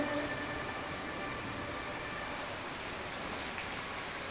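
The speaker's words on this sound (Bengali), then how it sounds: "এ প্রচণ্ড বৃষ্টি হয় আমাদের কাজ বন্ধ হয়ে গেছে" Heavy rain pours in a steady, even hiss at a worksite during a downpour, with no voices and no breaks, a constant wash of noise throughout.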